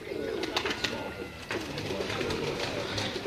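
Migratory pigeons on a rooftop in Kasur coo and call in a quiet, continuous open-air backdrop, with a few sharper bird notes and faint background voices.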